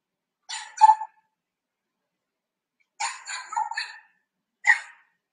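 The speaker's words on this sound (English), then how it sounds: "Can hear my dogs barking." Dogs bark indoors in three short separate bursts, a single bark, then a rapid cluster of several, then one more, with silence between, moderately near and no talking.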